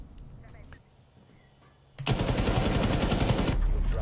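Rapid automatic gunfire in Rainbow Six Siege bursts out loud and close after a quieter stretch with speech, then continues as a sustained rattling stream of shots.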